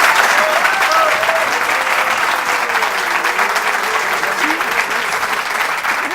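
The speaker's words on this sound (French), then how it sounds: "Je vous demande d'applaudir Isabelle Laillère." Sustained loud applause from a large audience, steady clapping throughout with no pauses.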